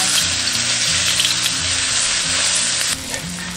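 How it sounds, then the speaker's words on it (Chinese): Minced garlic stir-frying in a little oil in a wok, a steady, loud, dense sizzle with low scraping stirs throughout, easing slightly near the end. "锅留少许底油，下入蒜末炒香"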